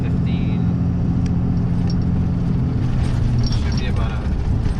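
A car drives along the road on a long trip, with a steady low engine and tire rumble inside the cabin, some faint clicks and rattles, and no talk.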